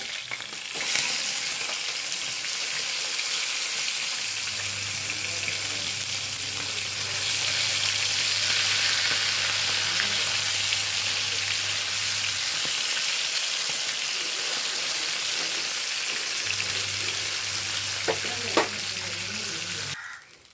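Fish frying in coconut oil after being turned, a continuous close, loud sizzle with occasional spatters and stirring clicks throughout.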